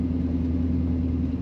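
A 1947 Ford Super Deluxe Club Coupe street rod with power steering gives off a steady, low engine rumble from inside the moving car, continuous and even throughout, with no voices.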